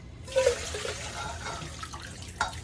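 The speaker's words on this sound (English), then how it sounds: "and then I'm gonna rinse these another time, strain them." Green beans being rinsed under running water in a kitchen sink, a steady close splashing and gurgling flow with a few louder spurts.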